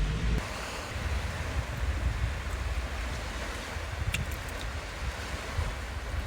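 Sea waves wash at the seaside under steady wind. The surf makes a continuous close rumble with gusty low-end buffeting across the microphone, and no voices are heard.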